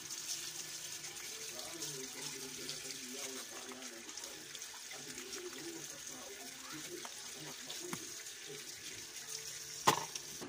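Rambutan fruit washed under a running tap, a steady low splash of flowing water with soft handling clatter and a brief sharper knock near the end.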